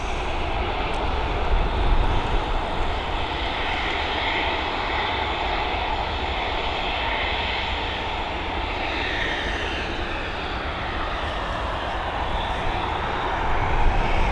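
A passenger aircraft at Dublin Airport produces a loud, continuous engine roar that holds steady with no break.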